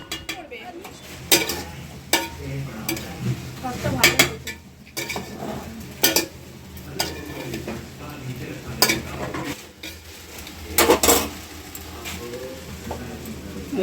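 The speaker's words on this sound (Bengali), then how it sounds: "এই কষা কষা চিকেন একদম লাল লাল চারিদিকে হচ্ছে" Chicken kosha stirred in a hot pan, steady sizzling and frying with repeated metal spoon scrapes and clinks against the pan, close by, with occasional voices.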